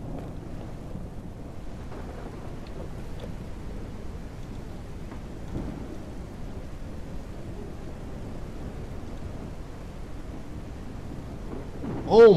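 Storm in the survival game Mist Survival: low rolling thunder and wind rumble drift along steadily with rain noise, ending in a sudden louder crack.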